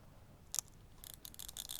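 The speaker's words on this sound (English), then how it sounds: "It's a fairly noisy shutter, but it's no noisier than most other SLRs of the time." A film SLR camera with a short-throw lever and a fairly noisy shutter makes one sharp mechanical click, then a quick run of rattling clicks, all faint and close in a quiet room.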